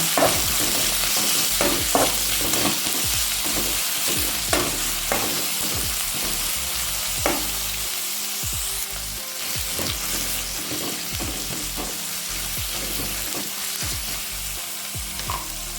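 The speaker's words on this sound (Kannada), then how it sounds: "ಹಸಿಮೆಣಸಿನ್ಕಾಯಿ ಹಾಕ್ತೇನೆ ಬೆಳ್ಳುಳ್ಳಿ ಸ್ವಲ್ಪ ಹೊತ್ತು ಫ್ರೈ ಮಾಡುವ" Green chillies and garlic frying in a pan for a bottle gourd curry, giving a loud, steady sizzle broken by frequent scraping stirs of a spatula close by, with no talk.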